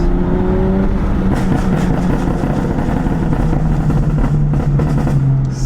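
A BMW F80 M3 with a Bootmod3 exhaust burble tune roars loudly up close in one continuous drone, with rough crackling pulses riding on the deep engine note.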